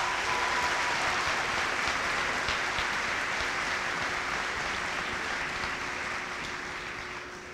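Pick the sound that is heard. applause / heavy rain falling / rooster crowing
applause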